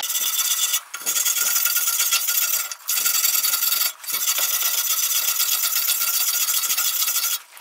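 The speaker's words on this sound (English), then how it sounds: "aluminum has a real thick oxide layer on it that you have to scrape away and you do that with a stainless steel brush" A stainless steel wire brush scraping the thick oxide layer off aluminum before TIG welding, steady raspy back-and-forth strokes in long runs with brief pauses, close and clear with no talking.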